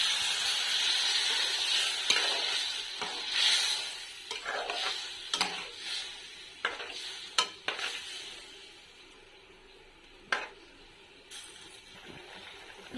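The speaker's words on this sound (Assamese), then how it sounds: "এতিয়া অকণমান পানী এড কৰিম" Fish and vedailota frying in a pan as a little water is added, a hissing sizzle that fades over time, punctuated by sharp clinks of a utensil stirring against the pan.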